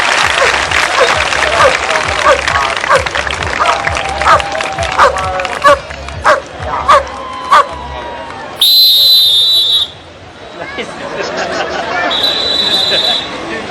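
Audience applause at a CISF dog show during the Navrang fete in Saket, New Delhi: a loud, sustained wash of clapping and crowd hubbub, broken by sharp whistle blasts near the end as the noise briefly drops away.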